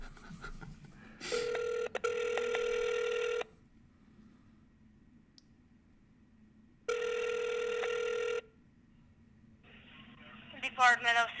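A telephone call rings out in two long electronic bursts of ringback tone separated by quiet, after an initial click, with a voice starting to speak at the end.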